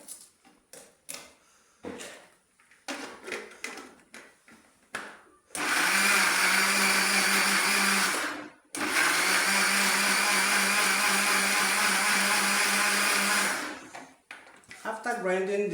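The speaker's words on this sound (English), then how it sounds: "grinding machine" An electric grinding machine blends sliced onions in two long, loud whirring bursts broken by a brief pause, after short knocks and handling sounds at the start.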